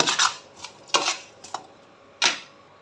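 Fried sago gets tossed with seasoning and scallions in a bowl, giving a handful of short, sharp clinks and scrapes at irregular intervals over a quiet background.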